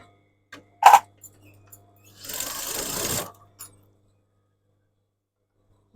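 A sewing machine stitches the side seams of a pair of tiered-fabric shorts: a short click, then about a second of steady whirring stitching, close and alone, with brief handling taps around it.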